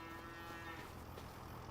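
A cow moos in the farming video game Farming Simulator 25: one long, steady bellow with a droning tone, loud and close throughout, with no talk over it.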